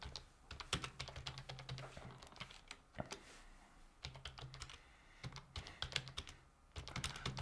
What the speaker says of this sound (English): This is going to be a very exciting show of me typing random stuff which you guys can't see in the chat